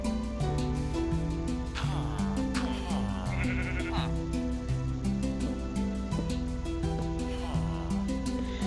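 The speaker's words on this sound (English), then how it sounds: "Hi, sheep." Sheep bleating in Minecraft, several wavering bleats spaced out over a looping melodic game music background.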